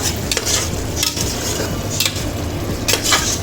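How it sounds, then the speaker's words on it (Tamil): A spoon stirs spiced tomato rice in a pot on the stove, giving repeated scraping and clinking strokes over a continuous low sizzle, close and fairly loud, with no voices. "போட்டு எல்லாம் நல்லா கிண்டி விட்டுருவோம்."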